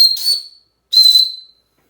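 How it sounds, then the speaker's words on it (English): Two short, shrill blasts from a small plastic paracord whistle, loud and close, separated by a brief pause of silence. "So here's this tiny little paracord whistle. I'm going to blow this thing real quick."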